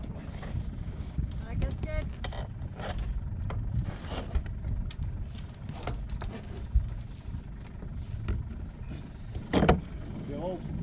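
A sailboat's engine idles at low volume beneath wind buffeting the microphone, with people talking and occasional knocks and clatter on board.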